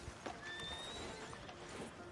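A horse whinnies with a rising, high-pitched call while hooves clop steadily beneath it, set in a Western-era town on PS4. The sound is close, continuous and moderately loud, and there is no talk.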